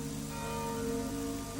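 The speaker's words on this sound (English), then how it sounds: "At 1 o'clock today, bells rang in all the churches of Békéscsaba." Church bells ring in the town of Békéscsaba in 1989, a sustained, slightly distant resonant tone held steady throughout without speech.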